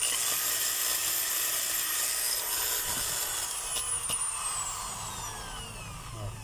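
DeWalt DWD024 half-inch hammer drill with a power fault, running roughly with a steady high whine and rasping motor noise that wavers and dips in strength, heard close and alone throughout.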